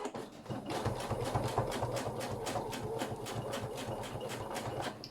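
A sewing machine fitted with a size 100 needle stitches through thick layered denim for a cap, a steady rapid run of needle strokes with a low motor hum, close and continuous throughout.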